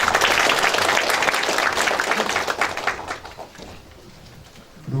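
An audience at a Korean county New Year online town hall debate claps loudly and steadily, the applause thinning and fading toward the end.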